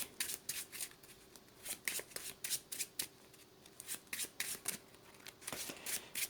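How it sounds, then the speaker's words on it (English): A deck of cards is shuffled over and over in quick rhythmic riffles, each burst crisp and close. No one speaks during the shuffling. "I'm going to shuffle the deck."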